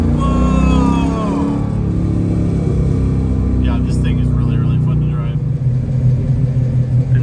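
A 1971 Dodge Challenger restomod with a 392 Gen III Hemi and six-speed manual rumbles loudly and drives off, its low engine note steady under a person talking excitedly.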